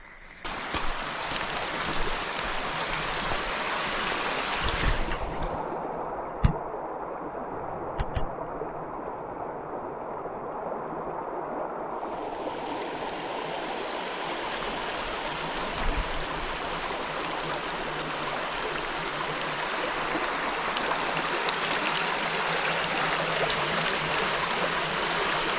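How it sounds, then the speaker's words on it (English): A brook flows and tumbles over rocks beside a Rhode Island hiking trail, making a steady broadband rush of water. It stays moderately loud throughout, with brief knocks and a shift in tone partway through. "there's also a brook on the other side here that falls through here"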